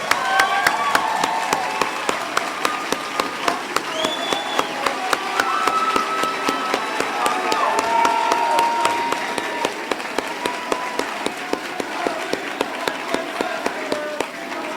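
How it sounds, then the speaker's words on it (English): An audience breaks into sustained applause for volunteers at a convention, dense clapping filling the room for about fifteen seconds with scattered sharp claps standing out. "a round of applause."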